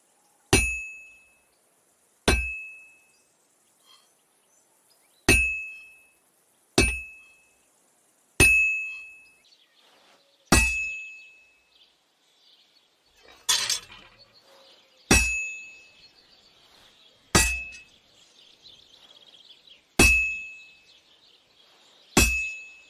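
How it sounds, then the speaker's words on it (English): A hammer strikes hot and cold metal, sharp metallic clangs ringing out about a dozen times, each strike followed by a bright, decaying ring, with a brief scraping rustle in the middle. "bash them with the hammer and recorded the sound"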